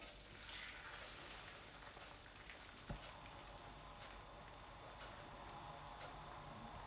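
Omelette batter sizzles steadily in a hot frying pan lightly coated with oil, a continuous close frying hiss with one sharp tap partway through and no talking.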